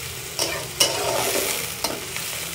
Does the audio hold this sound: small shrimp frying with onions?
yes